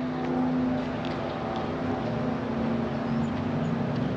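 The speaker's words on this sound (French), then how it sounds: "Mais on entend une voiture de course." A race car engine at Daytona Beach drones steadily in the distance, a constant tonal hum holding at moderate level for the whole stretch with no talk over it.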